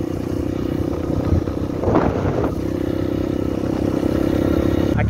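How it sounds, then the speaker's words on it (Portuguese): A motorcycle revs hard while stuck in deep sand, a loud continuous engine drone with a burst of spraying, clattering grit in the middle. "a moto você acelera, acelera, só cavuca"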